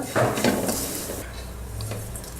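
Aloo karela stirred in a frying pan with cumin powder, giving a few metallic clinks and scrapes of a spoon against the pan over a low background.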